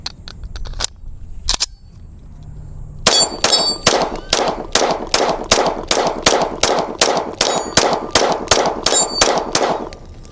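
A PSA Compact Dagger pistol is emptied in a rapid magazine dump, with a few separate shots followed by a long, fast, evenly spaced string of sharp, loud reports ringing out with metallic clangs.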